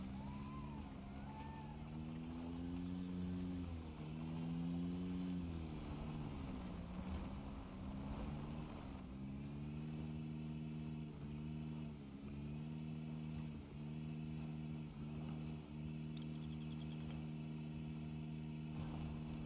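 A car driving slowly in Project Zomboid, its steady engine drone rising and falling gently as it moves, continuous and alone without talk.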